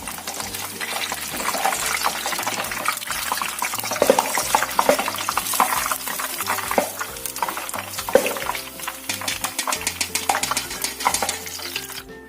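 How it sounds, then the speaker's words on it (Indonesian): Corn fritters (gorengan) bubbling in hot oil in a home kitchen, a continuous crackling sizzle broken by scraping and stirring of a utensil against the pan, with occasional louder clinks. "kita goreng yang selanjutnya"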